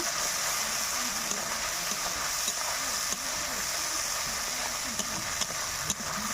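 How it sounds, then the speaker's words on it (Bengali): Ground spice paste with turmeric fries in hot oil for soybean chana dal, a loud, steady close sizzle with faint scraping clicks from stirring and no voices. "মশলাটা বেশ ভালোভাবে আমি কষে নেব"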